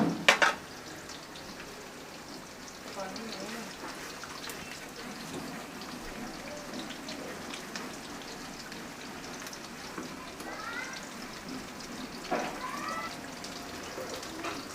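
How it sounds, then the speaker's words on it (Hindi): Yogurt going into a pan of masala that has been browning in oil for kofta, giving a soft steady sizzle and crackle with a few brief spitting bursts, moderately close, with no voices. "तो अब हम इसमें दही डालेंगे।"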